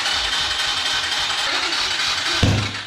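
Whiskey Throttle minibike small engine started without choke, a loud, close, steady buzzing roar that drops to a lower rumble near the end.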